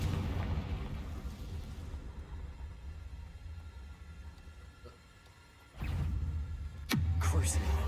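A Confringo blasting curse in Hogwarts Legacy goes off as a deep, booming explosion, then a low rumble fades out. A second sharp burst follows near the end, with no talk over it.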